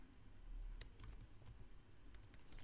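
Keystrokes on a computer keyboard while entering a list of items into a spreadsheet, a few soft clicks in quick bursts, faint and close, with no talking.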